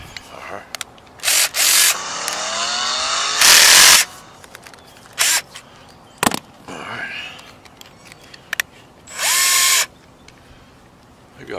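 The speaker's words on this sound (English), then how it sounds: "I love my DeWalt drills." A DeWalt drill bores a hole into a roof for solar panel mounting, with several short bursts of high whining drilling separated by pauses, close and loud, amid scraping and handling noises.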